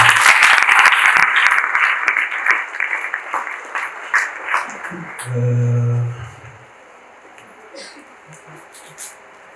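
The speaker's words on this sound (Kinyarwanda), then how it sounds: "reka Imana tuyikomere amashyi." A church congregation claps in praise to God, loud dense applause that thins into scattered claps and fades, followed by a short sustained vocal tone and then near quiet with faint murmurs.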